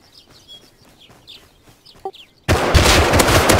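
Short sharp pops and clucky bursts of gunfire in the video game Rust during a raid, sparse at first, then a loud continuous barrage of rapid shots and noise takes over.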